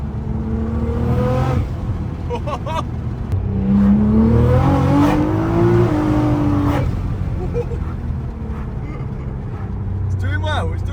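A Nissan GT-R with a freshly repaired gearbox drives hard, the engine revving up through rising pitch sweeps as it shifts gears, loud and close with a cabin drone underneath.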